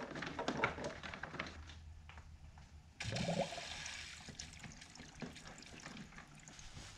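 A FreeSea aquarium filter, freshly primed and plugged in, runs with water flowing and trickling steadily; the splashing rises and grows busier partway through, with no talking.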